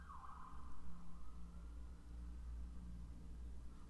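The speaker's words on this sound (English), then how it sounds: "I was just waiting for the sirens to stop" Emergency vehicle sirens pass outside, a faint wailing tone that sweeps and then holds steady over a low background rumble, heard distantly from indoors.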